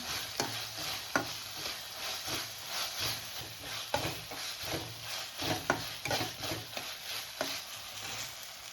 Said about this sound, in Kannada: ಹಸಿ ವಾಸನೆ ಹೋಗೋವರೆಗೂ ಶುಂಠಿ ಬೆಳ್ಳುಳ್ಳಿ ಪೇಸ್ಟ್ನ ಚೆನ್ನಾಗಿ ಫ್ರೈ ಮಾಡ್ಕೋತಾ ಇದ್ದೀನಿ.